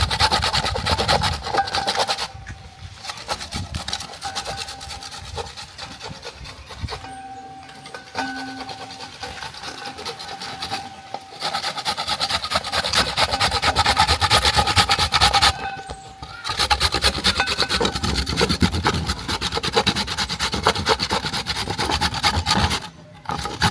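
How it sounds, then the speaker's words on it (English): Fresh coconut rubbed against a metal hand grater while preparing a sweet coconut candy, a steady rasping scrape in continuous strokes with a few brief pauses, close and moderately loud. "grate our coconut. We are using this size to grate it."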